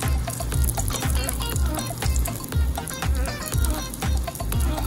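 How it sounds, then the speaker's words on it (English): Tuna cakes sizzling and crackling steadily in a pan over medium heat, with a dense continuous spitting sound and a faint low voice underneath. "I am going to fry these tuna cakes made with safe catch tuna for 2 minutes on each side on medium per Chef Tova's instructions."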